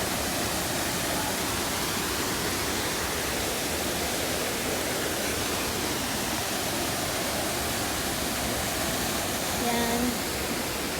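Waterfall at Narusawa Resort roaring in a steady, broadband rush of falling water, loud and unbroken throughout, with a faint voice briefly near the end.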